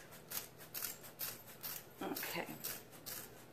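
Scissors snip repeatedly through stiff wine barrel material with hard, thicker spots, giving a series of close, rasping cuts in an uneven rhythm while a person speaks briefly.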